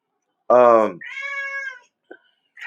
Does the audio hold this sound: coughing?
no